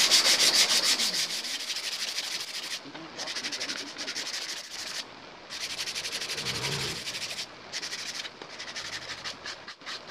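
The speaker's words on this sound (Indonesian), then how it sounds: "Nah sekarang dihalusin dengan amplas nomor 100." A small wooden machete sheath is sanded by hand with 100-grit sandpaper, giving steady rasping strokes, close and continuous, with brief pauses between passes.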